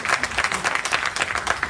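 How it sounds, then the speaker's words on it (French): Dense audience applause at a book launch event, a steady wash of many hands clapping at moderate volume with no voices on top. "applaudissements, s'il vous plaît."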